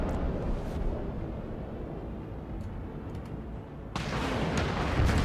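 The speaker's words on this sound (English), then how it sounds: "Unleash the bombards! Oh my god, it's a giant pink missile!" Bombard missile artillery strike in the video game Broken Arrow: a dense, continuous low rumble of distant barrages, swelling into a louder, harsher roar of impacts near the end, with no speech.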